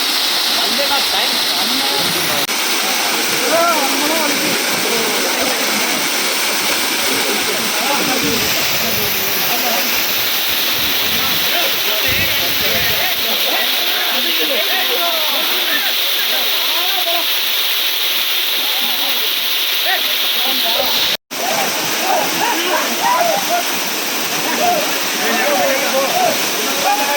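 Masila waterfall roars as a loud, steady rush of falling water that fills the whole stretch, with voices faintly mixed in beneath it.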